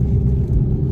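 Mustang fitted with a supercharged fifth-generation 3-liter Whipple kit drives along with a deep, steady, loud low rumble heard from inside the car, alone without talk.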